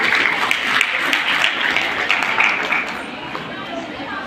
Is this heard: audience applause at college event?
yes